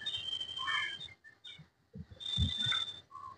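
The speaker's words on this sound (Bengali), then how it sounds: "পাখির ডাকও আপনারা এখানে শুনতে পাবেন" Birds call around a temple grounds in Kolkata, thin whistled notes and short chirps in two bursts separated by a quiet gap, with faint low knocks underneath.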